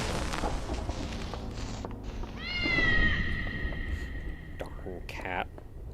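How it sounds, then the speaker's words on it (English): A cat gives one drawn-out meow, clear and fairly close, with a shorter chirping cry after it. It rises over a busy rumbling game soundscape, with a voice murmuring quietly underneath. "Darn cat."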